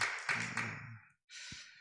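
A church congregation applauds after the choir's praise song at a Christmas Sunday worship service; the dense clapping fades out within a second, falls silent briefly, then a short burst of sound follows.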